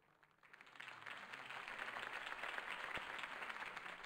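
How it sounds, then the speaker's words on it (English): A crowd in the Batman: The Telltale Series video game bursts into sustained applause after a campaign speech, a broad wash of clapping that swells and holds steady. "could have heard that applause"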